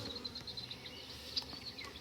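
Honey bees buzz around a hive while a swarmed colony is being split into new colonies: a steady, close, layered drone of many wings with no voices.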